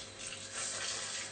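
Water pours steadily around the edges of a baking dish holding a Gujarati broccoli bake, a continuous soft splashing that swells slightly partway through.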